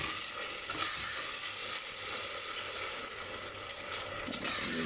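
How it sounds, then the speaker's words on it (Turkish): Steady sizzling of tomatoes and onions frying in a hot pan for chickpea stew, a continuous crackle with occasional soft stirring sounds. "domatesleri şu soğanları güzelce pişireceğiz"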